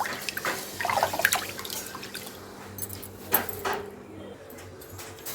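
Water splashes and trickles in a kitchen as rice is washed by hand in a vessel, with a steady low hum underneath and a few louder sloshes and drips.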